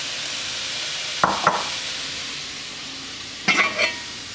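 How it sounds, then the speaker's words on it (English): Steady frying sizzle of chicken browning fills the pan, broken by a few sharp scraping clinks of a utensil stirring, close up. "now I want to brown it in my frying pan"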